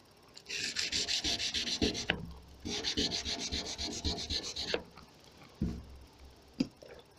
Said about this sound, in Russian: Берем 1000-ную шкурку, одеваем на брусок плоской стороной с водичкой и начинаем все это дело зачищать